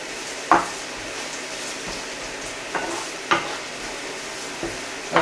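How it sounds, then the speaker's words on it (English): Ginger garlic paste frying in a pan for Punjabi samosa filling, a steady sizzle broken by several sharp scrapes and knocks of a utensil stirring against the pan. "I'll just give it a quick fry before I start adding spices."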